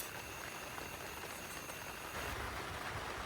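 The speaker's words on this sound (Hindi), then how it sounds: "बारिश लगी जा रही है" Steady rain falls at a camping site during heavy rain and extreme weather, a dense, even hiss of drops that swells slightly louder near the end, with no voices.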